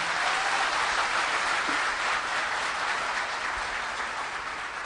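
Sustained, loud applause from a large audience at an Amway business gathering, a dense, even roar of many clapping hands that holds steady throughout without speech.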